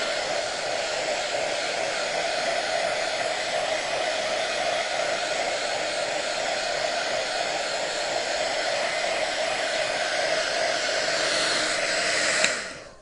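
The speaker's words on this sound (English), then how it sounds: "dry this, and it won't take long because I don't have much paint on yet" A hair dryer blows steadily and loudly at close range to dry fresh, thin paint, a continuous even whoosh that holds for about twelve seconds and then cuts off abruptly.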